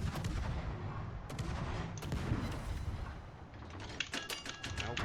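Rapid bursts of gunfire aimed at an enemy submarine during a naval combat video game, a dense run of cracking shots spread across the whole stretch with sharper reports toward the end.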